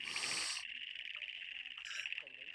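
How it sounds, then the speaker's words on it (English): A Balin pygmy frog, Microhyla balinensis, calls in a short high-pitched buzzing trill that carries steadily through the clip, faint and set against soft background noise. "it was the Balin pygmy frog, Microhyla balinensis"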